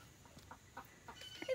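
Chickens cluck softly in a short run of quick, faint clucks outdoors, with no voices over them.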